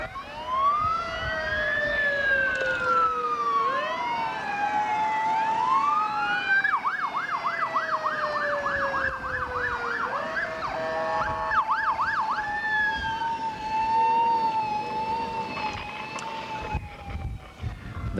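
Ambulance sirens pass in a 1986 centennial parade in Lamar, Colorado, loud and continuous for the whole stretch, mixing long rising-and-falling wails with a fast warbling yelp section, several overlapping tones, no talking.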